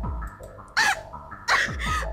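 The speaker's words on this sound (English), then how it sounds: "You started coughing suddenly." A character coughs in the Ever 17 video game: two rough, breathy bursts about a second apart, close and clear against a quiet background with faint musical tones.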